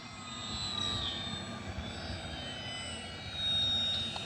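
A 1.1 m RC F4U-4 Corsair model airplane with flaps out flies overhead, its steady electric motor whine droning at moderate distance and swelling slightly toward the end.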